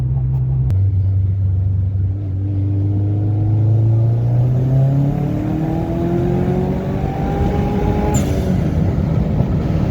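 A Subaru Legacy fitted with an EJ257 engine and a front-mount intercooler accelerates through the gears on a highway. The engine drones and rises in pitch with each gear, over a loud steady rumble of road and wind noise.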